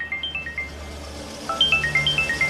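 Phone ringtone playing a repeating bright electronic melody of short tones in two bursts, separated by a brief pause, clear and moderately loud.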